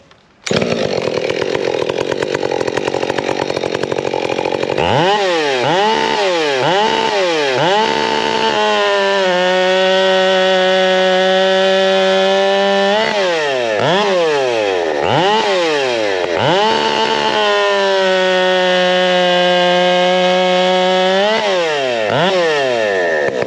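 Husqvarna 572XP chainsaw fitted with a Steadfast Forestry muffler, loud and close, idling briefly then revving hard into two long wood cuts, engine pitch sagging under load and rising between cuts, with no talk.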